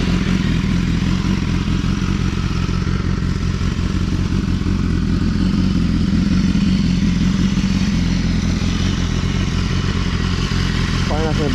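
A motorcycle with lightweight HP rims runs steadily up close, its engine producing a loud, continuous low rumble with a faint mechanical clatter, heard alone without talk over it.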